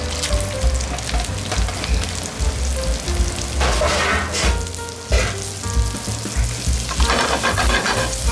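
Seabass and mushrooms pan-fry in butter over a high flame, giving a loud, steady sizzle that crackles and surges throughout, with no talking.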